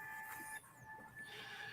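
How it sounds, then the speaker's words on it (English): A printer whirs and runs at low volume, a steady mechanical drone with a high whine and a brief shift in pitch midway, with no voices. "It sounded like the printer went off."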